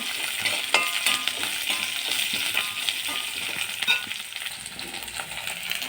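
Vadagam seasoning frying in oil in a pan for a Tirunelveli-style toor dal rice, with a steady close sizzle and scattered clinks of a spoon stirring and scraping throughout.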